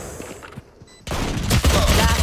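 Gunfire in Valorant, a tactical shooter, opens with scattered shots, then turns into a dense, loud fusillade of rapid overlapping bursts that fills the second half.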